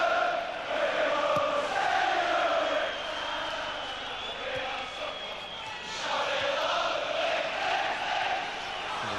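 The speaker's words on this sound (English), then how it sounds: "And the Leeds crowd in full voice here, cheering even more if they can score again" A Leeds United football crowd chants and cheers in full voice at a 1991/92 league match, a dense, surging roar that swells and dips across the stadium.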